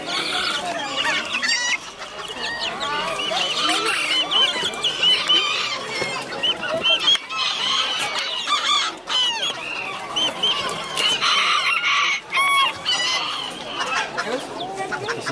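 Chicks and chickens at a poultry expo in Xochimilco cluck and peep constantly, a dense chorus of high chirps and squawks, with a voice talking faintly among them.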